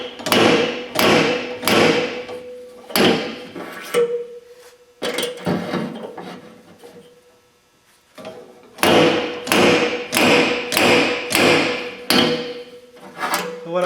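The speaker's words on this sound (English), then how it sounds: "And then I'm going to hammer it." A stud dent puller is hammered on the rear panel of a 1970 Camaro SS, giving loud metallic blows in fast bursts of repeated strikes with brief pauses between sets, close and alone.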